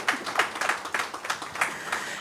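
Conference audience clapping for a panel of speakers at a bank tax conference, a steady patter of many hands at moderate distance throughout the short clip.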